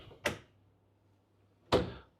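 Hotel room storage drawers are pushed shut: two sharp, close knocks about a second and a half apart in an otherwise quiet room.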